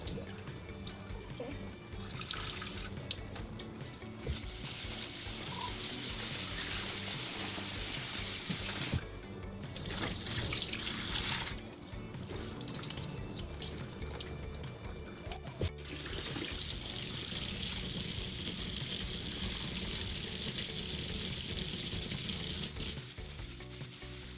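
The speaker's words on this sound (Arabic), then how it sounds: "نغسل الرز." Tap water runs into a pot as rice is washed, a steady close splashing rush broken by a few short pauses where the flow stops and restarts.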